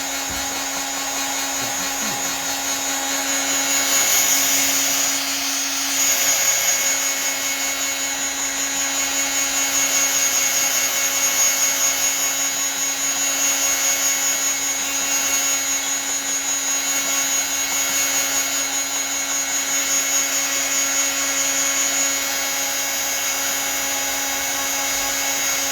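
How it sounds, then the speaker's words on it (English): A handheld heat tool blows steadily for a long stretch while drying watercolor paint on a craft project, giving a constant whirring hiss with a high whine that barely changes in loudness. "I don't want to heat dry it really, but I kind of have to"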